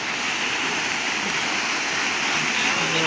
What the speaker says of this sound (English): I'm going to walk around this waterfall